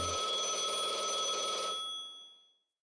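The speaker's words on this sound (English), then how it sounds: "A phone call?" Phone ringing in the Blue Archive video game, a bright electronic trill ringing steadily for about two seconds before cutting off and fading out, alone with no talking.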